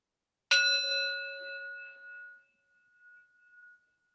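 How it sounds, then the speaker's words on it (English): A single bell is struck once, ringing out with a bright metallic attack and a clear tone that slowly fades over a couple of seconds in a quiet room. "I'm going to ring the bell after each one of us goes."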